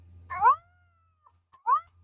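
A cat gives two distinct meows, the first long and drawn out, the second short, with a faint low hum running underneath and no speech.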